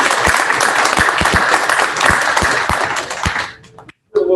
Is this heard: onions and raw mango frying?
no